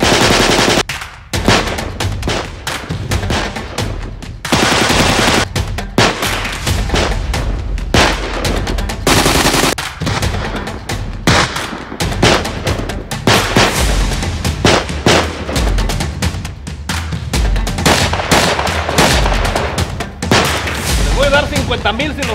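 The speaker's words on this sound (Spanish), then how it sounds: "¡Disparen!" Film shootout with continuous loud automatic gunfire and booming shots filling the scene, with shouting voices mixed into the chaotic barrage.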